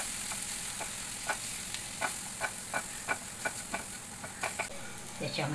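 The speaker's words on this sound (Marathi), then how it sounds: "हे डाळीचं पीठ पण आपण याच्यामध्ये छान भाजून घेणार आहोत." Gram flour roasting and being stirred in a pan with spinach and garlic, a steady low sizzle under repeated soft scraping strokes of a spoon against the pan, close up, with no talking.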